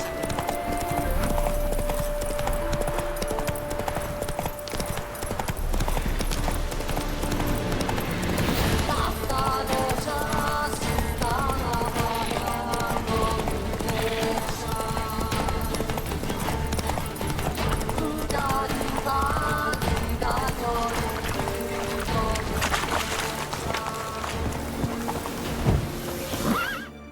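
Geralt's horse Roach gallops in The Witcher 3: Heart of Stone, with steady, fast hoofbeats running throughout. A whinny breaks through, all layered over continuous game music and ambience.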